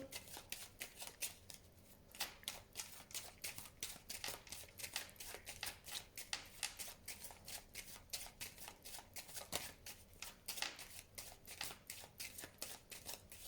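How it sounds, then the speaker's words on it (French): Tarot cards being cut and shuffled by hand, a rapid, steady patter of crisp papery flicks and riffles, close and alone with no talk. "je vais faire maintenant une coupe avec le tarot que j'utilise pour les consultations privées, prédictives"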